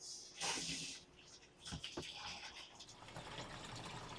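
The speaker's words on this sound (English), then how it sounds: "let's go ahead and put some water in this" Water pours into a translucent Chapin plastic water storage tank with a hissing, splashing rush that swells after a moment, then settles into a steady filling wash broken by a few knocks and clunks.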